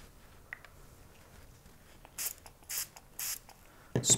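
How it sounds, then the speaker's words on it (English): Water is sprayed from a spray bottle to rinse a small gold-plated piece, three short close hissing bursts with a fourth starting at the end, separated by quiet pauses. "Spray it really well."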